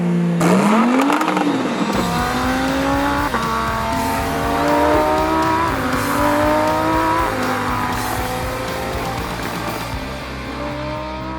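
Cars pushed hard around a racetrack, engines revving and tires squealing loudly through corners, one continuous close-up run with rising and falling engine pitch and no talk.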